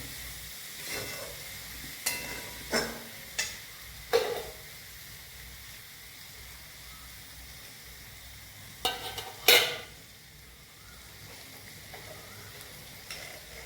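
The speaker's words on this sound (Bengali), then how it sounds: "এবার এর মধ্যে আমি ভাতটা মেশাবো।" Cooked rice is stirred into a pan of paneer pulao with green peas, giving scattered spoon clatters and scrapes over a faint, quiet sizzle. No voices are heard.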